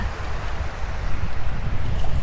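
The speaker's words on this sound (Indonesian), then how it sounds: "Memang kondisinya agak berangin karena prediksinya jam 1 siang itu akan anginnya parah ya" Wind and surf at Farm Beach in South Australia, a steady broad roar of gusts and breaking waves with microphone buffeting, loud and continuous, no voices.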